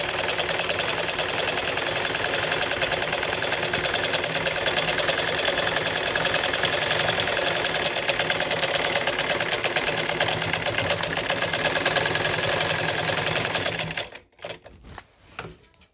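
A sewing machine runs steadily, stitching a diagonal seam on a salwar with a fast, even mechanical chatter, close and loud, before stopping abruptly near the end into a few quiet handling sounds.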